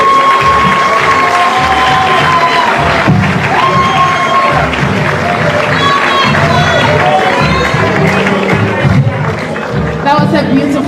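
Audience applause and cheering fill a packed hall at a university political event, a dense crowd roar of clapping and shouts running throughout with voices and a drawn tone on top.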